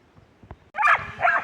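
A dog barks twice in quick succession, fairly close, after a brief quiet stretch with a faint tap, on a forest hiking trail near Lowman, Idaho.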